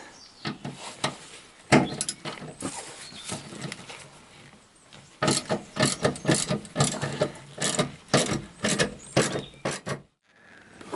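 Ratchet cranking loose the rear seat-base bolts inside a VW Caddy Mk4 van, heard as bursts of quick, close mechanical clicking that stop and start, with a busier run of clicks near the end.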